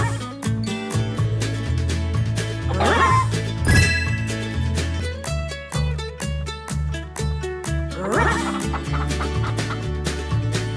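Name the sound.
chickens clucking in a video game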